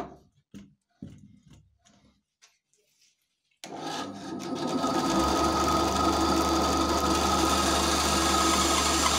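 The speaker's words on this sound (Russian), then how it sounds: "Сейчас покажу вам, как он пилит." A few quiet clicks and taps give way to an Einhell TC-SB 200/1 band saw starting up, then a loud, steady whirring hum as it runs and cuts.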